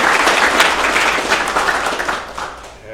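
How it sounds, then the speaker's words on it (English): A tech meetup audience applauds speaker Dan, loud close clapping from a packed room that holds steady and then gradually tapers off. "everyone give Dan a round of applause"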